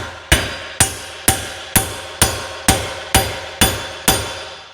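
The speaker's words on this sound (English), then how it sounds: "you can get a hammer and try to hit this on the face" A hammer striking the face of a differential pinion, nine sharp metallic blows at an even pace, each ringing briefly before the next, close and loud with no talk.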